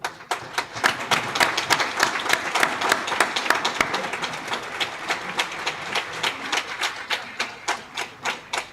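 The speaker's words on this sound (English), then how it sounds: "please stand up once and give them a huge round of applause to these two sets of people" Standing applause at a dental institute's 17th graduation ceremony and annual day: a hall of people clapping in a loud, partly synchronized rhythm, the claps settling into a steady beat that gradually thins toward the end.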